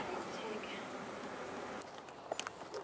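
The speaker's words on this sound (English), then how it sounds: "that's a lot of bees" A dense, steady buzz of many bees fills the air, constant and close, with a few sharper ticks and bumps toward the end.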